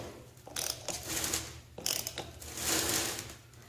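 Bolts on an Ariens ST824 two-stage snow blower are tightened by hand with a ratchet, giving close, repeated clicking strokes in uneven bursts.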